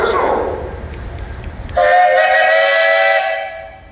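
A steam traction engine whistle at an outdoor parade sounds a loud, steady tone after a moment of murmuring crowd noise, then tapers off.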